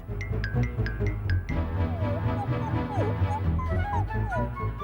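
A small puppy gives a quick run of high yips, then trails into whining, whimpering cries over a soft, continuous background.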